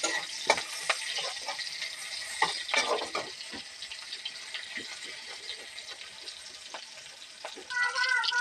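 Onions frying in a wok with cloves, cardamom and cinnamon, a steady close sizzle with occasional stirring scrapes and bubbling, swelling louder near the end.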